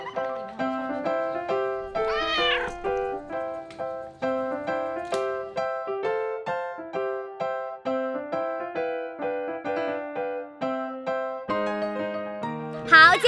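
Cats give a few short meows while their fur is trimmed by a groomer; the meows sit over steady, continuous background music, with one clearer cry early on and another at the very end.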